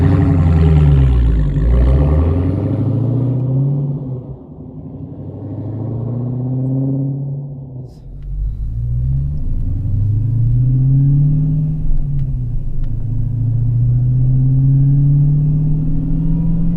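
A Hellcat engine rumbles deeply under gentle acceleration on the road, its low note rising and falling through several smooth gear pulls, loud and close throughout.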